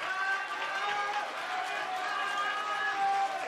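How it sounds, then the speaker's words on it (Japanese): Steady applause and crowd noise fill a boat racing stadium as a racer who won the tenth race steps out, broad and continuous throughout with some talk mixed in. "盛大な拍手でお迎えください。"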